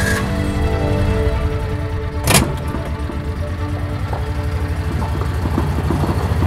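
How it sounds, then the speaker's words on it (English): Steady engine drone from an ATV climbing a hill through a vineyard, close and continuous, with a brief sharp noise partway through. "We gather our camera gear, climb onto the ATV, and he drives us up the hill into the vineyard"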